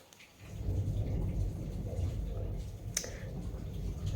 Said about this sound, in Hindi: मेघ गरज रहे हैं, बादल गरज रहे हैं, क्लाउड्स आर थंडरिंग